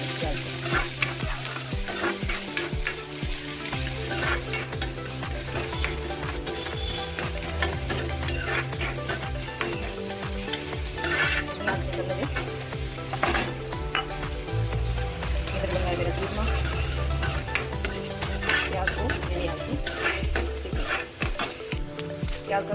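Chopped onions sizzle in hot oil with cumin seeds in a home kitchen pan, a constant crackling fry broken by repeated scraping and clanking as a spoon stirs them against the metal, close and steady.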